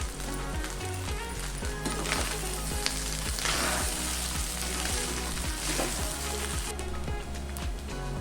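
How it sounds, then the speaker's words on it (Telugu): Chicken fried rice with spices sizzles steadily in a hot pan while being stirred, a dense crackling fry with rhythmic scraping and clinking of the spoon, moderately loud and without talk. "ఇప్పుడు మనం బాగా మిక్స్ చేసుకుందాము."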